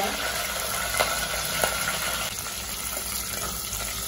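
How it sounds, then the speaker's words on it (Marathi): Garlic, curry leaves and green chilies frying in hot oil for a besan pithla, a steady, dense sizzle that holds evenly throughout with a couple of faint clicks. "आता हे सगळं साहित्य आपल्याला व्यवस्थित फ्राय करूया"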